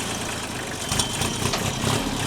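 A tractor engine, reportedly in poor condition with a suspect hydraulic line, idling with a low steady rumble and slight irregular pulses, heard close with no talk.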